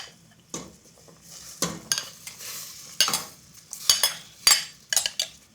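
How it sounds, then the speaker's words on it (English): Tinned tomatoes being stirred into a paneer curry sauce in a pan, with repeated scraping spoon strokes and clinks against the metal sides over a faint simmer, close and moderately loud. "Give that a stir through"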